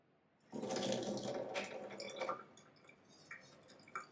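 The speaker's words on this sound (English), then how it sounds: "I have a helper here who's going to start off by rinsing off this coil pot bowl" Tap water rinses a ceramic bisqueware coil pot bowl, a soft splashing stream that starts abruptly, then thins into quieter trickles and drips, close and fairly faint.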